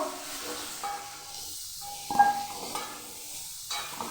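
Fried potatoes in ghee being stirred in a pan, soft sizzling with intermittent scraping strokes and small clinks, fairly quiet and close, no talk.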